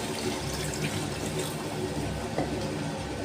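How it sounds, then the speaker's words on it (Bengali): Water is poured into a pan of oil-fried masala with salt, turmeric and sugar for a spiced pabda fish curry gravy, a steady rushing pour lasting throughout. "এবার ঝোলের জন্য সামান্য জল দিয়ে নেব।"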